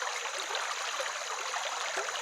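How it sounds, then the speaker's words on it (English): A Wisconsin river flows steadily nearby, a continuous rushing, bubbling wash of water without voices, at a gold-mining sluice. "all you hear is the sound of the river and gold clinking in your sluice"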